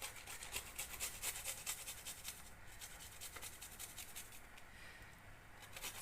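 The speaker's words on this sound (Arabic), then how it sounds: "دابا غادي نحك الثومه" A garlic clove grated by hand while cooking at home makes a steady, rhythmic rasp of quick, close strokes that runs for several seconds without any voices.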